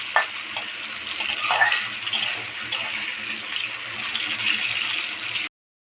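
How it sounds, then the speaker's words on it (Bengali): Potatoes fry in hot oil with a close, steady sizzle that runs unbroken for several seconds, with occasional stirring clatter, then it cuts off abruptly. "আমি ওই তেলেই আবার একটু আলুগুলোও ভেজে দিচ্ছি, সামান্য একটু ভেজে দিচ্ছি"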